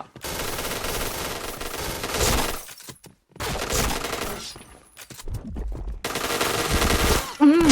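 Rapid automatic gunfire from the online shooter Point Blank comes in three loud sustained bursts separated by brief gaps, close and dominant throughout.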